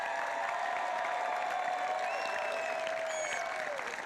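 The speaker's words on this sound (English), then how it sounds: "Give her a cheer." A crowd at a high school graduation ceremony claps and cheers in steady, sustained applause, with a few whistles and shouts rising over the dense clapping.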